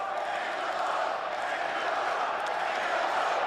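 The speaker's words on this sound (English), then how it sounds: "That's the whole crowd outside of the Jay Woo contingent. That was a 3-syllable Angelo chant." A wrestling championship crowd fills the arena with a steady, loud roar of massed voices, a chant rolling through the noise without pause across the whole stretch.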